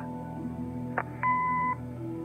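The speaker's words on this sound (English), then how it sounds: "Leave a message after the beep." In the Kathy Rain video game, an answering machine gives a short click followed by a steady electronic beep lasting about half a second, heard over a low hum.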